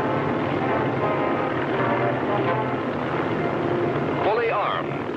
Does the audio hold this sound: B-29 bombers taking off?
yes